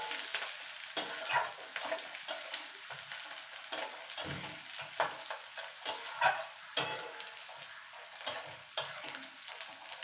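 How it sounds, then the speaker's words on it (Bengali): Onion, garlic and green chili frying in a pan while being stirred, with steady sizzling and a series of sharp utensil scrapes and stirs recurring every second or so, close and clear with no talking. "এবার এটাকে মিনিট খানিক একটুখানি ভাজা ভাজা করে নেব।"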